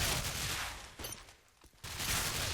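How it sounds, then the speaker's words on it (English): Gunfire in Call of Duty 4 during a competitive bomb match: dense, loud bursts of shots that fill the opening second, drop away briefly, then resume hard toward the end. "Kelbs has got gunfire going all around"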